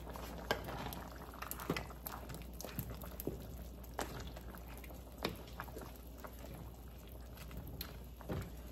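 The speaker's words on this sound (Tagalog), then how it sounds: "Tapos haluin natin." Simmering ginataang monggo with added chicharon stirred in a pot, producing a low bubbling bed with scattered light clinks and scrapes from the spoon, faint and close, no voices.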